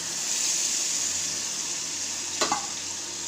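Dal poured over fried spices sizzles hard in a pan, a constant bright hiss close up with a short stir or splash partway through.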